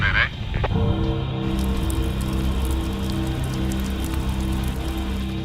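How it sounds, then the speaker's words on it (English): Steady rain pelting down on a logging site in the Cariboo, a dense continuous patter with engine-like hum underneath, loud and close throughout. "Thinking it better stop raining soon, or we're gonna go from too dry to too wet."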